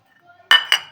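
A spoon works chili flakes, oregano and coriander into garlic butter in a bowl, giving two sharp, close metallic clinks in quick succession against the dish after a near-silent pause.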